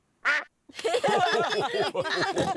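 A duck quacks loudly and close, one quick call followed by a long run of rapid, raspy quacks.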